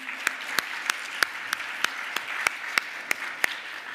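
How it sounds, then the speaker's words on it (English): A conference keynote audience applauds steadily, with a dense wash of clapping punctuated by sharp, regularly spaced claps or hits standing out above it. "let's give a big round of applause for them"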